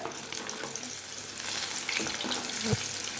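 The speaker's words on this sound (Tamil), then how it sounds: "இப்போ எண்ணெயில் மீனை நல்லா போட்டாச்சு மீன் நல்லா கோல்டன் ப்ரௌன் ஆகிற வரைக்கும் வேக வேக விடுங்க ஃப்ரை பண்ணுங்கள்" Fish, an aura (seer fish) variety, frying in hot oil in a home kitchen, giving a steady close sizzle with occasional stirring and scraping knocks in the pan, heard without talk.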